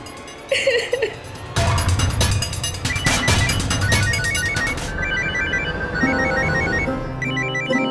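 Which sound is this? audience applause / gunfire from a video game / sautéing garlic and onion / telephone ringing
telephone ringing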